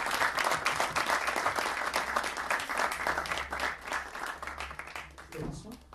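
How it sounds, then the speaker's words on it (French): Thunderous applause from a conference audience welcoming a speaker, dense rapid clapping from a large crowd, loud and sustained before thinning out near the end as a voice begins. "je vous demande de faire un tonnerre d'applaudissements"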